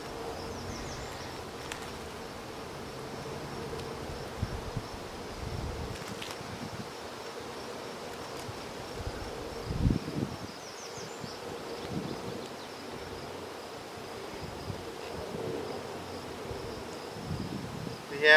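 Soft, steady buzzing of honeybees around an open hive during an inspection, faint and continuous with a few light handling knocks and rustles close by.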